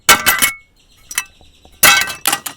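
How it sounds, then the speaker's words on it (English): Glass breaking and shattering, recorded with a wide stereo microphone setup: loud crashing bursts with scattering tinkling shards, a quieter gap with small clinks, then two more heavy smashes close up. "glass has a very wide kind of panoramic field when you're breaking it or shattering it"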